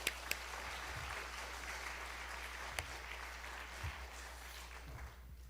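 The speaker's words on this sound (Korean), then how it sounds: "나오실 때 다 같이 큰 박수로 환영해 주시기 바랍니다." A church audience at a lay retreat claps continuously to welcome a pastor to the front, a steady, fairly distant patter of many hands with a few sharper knocks.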